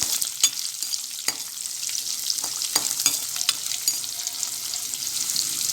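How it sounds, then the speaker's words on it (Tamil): Chopped small onions (shallots) fry in oil for a tamarind-okra gravy, a bright, continuous hiss of sizzling fat punctuated by scattered clicks and scrapes of stirring. "சின்ன வெங்காயத்தை போட்டு நல்லா கொஞ்சம் வறுத்துடலாமா"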